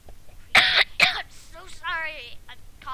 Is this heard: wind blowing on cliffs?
no